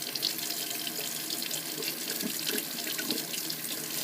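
Water runs steadily from a sink faucet as it is adjusted for temperature before a clarinet or saxophone mouthpiece is rinsed, a continuous close hiss of flowing water with no talk.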